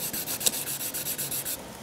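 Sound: wet sanding boat gel coat with 800 grit sandpaper

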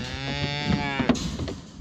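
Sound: Holstein cow mooing loudly

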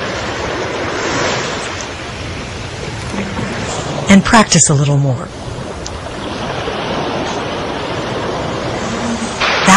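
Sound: ocean waves breaking on a beach

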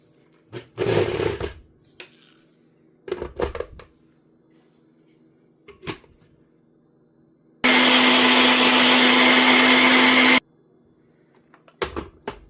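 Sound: blender grinding carrot, fresh turmeric, ginger and orange

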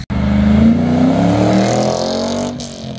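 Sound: sports car accelerating at supercar meeting

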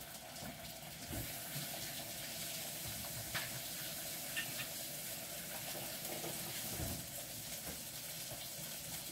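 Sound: washing hands under running water

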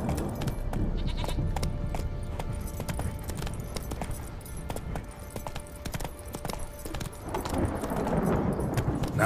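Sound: hoofbeats of Geralt's horse Roach in The Witcher 3 video game

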